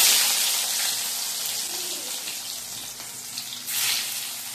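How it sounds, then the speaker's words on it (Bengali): Boiled potato pieces hiss loudly in hot cooking oil, a steady close-up sizzle that holds throughout and swells again near the end. "আলুগুলোকে ভেজে নেব।"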